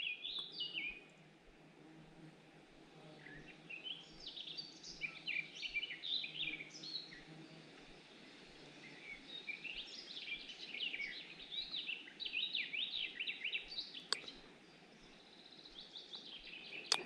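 Several birds sing and chirp outdoors, bright trilling phrases overlapping and repeating, fairly faint against a quiet background hum.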